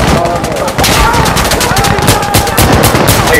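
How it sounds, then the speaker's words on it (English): Rapid, loud automatic gunfire in the shooter game Insurgency: Sandstorm, dense overlapping bursts and shots rattling without pause. "Look how tactical the bullets in this game."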